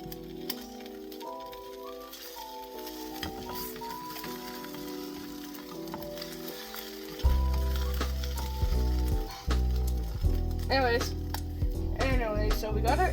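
An egg fries in a pan with a steady crackling sizzle that grows louder partway through, continuing under someone talking and background music.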